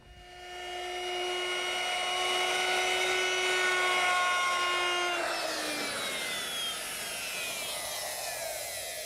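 Router fitted with a 1/4 inch radius round-over bit, a high steady whine that spins up and holds, then drops in pitch as it bites into the edge of a wooden harvest tabletop, close and alone.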